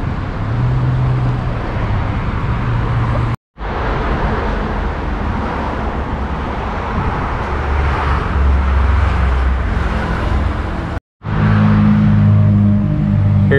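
Steady road traffic at the Hua Hin bus station in Thailand, with cars and buses rumbling and passing nearby in a constant roar, broken by two brief cuts.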